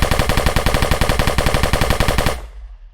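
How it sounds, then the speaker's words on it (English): An automatic gun in an Unreal Engine 4 third-person shooter fires a rapid, evenly spaced stream of about twenty loud shots, then stops abruptly, leaving a short fading tail. "So as you can see, it is firing perfectly. It has fired 40 bullets, which is the current ammo"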